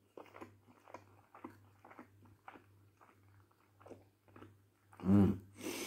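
Someone eats a large egg wrap close to the mic: soft rhythmic chewing with moist clicks, then one louder, crisp bite near the end.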